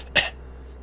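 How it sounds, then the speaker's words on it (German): One short, close cough or throat clear, sharp and brief, over a low steady hum. "Du hast schon wieder Husten."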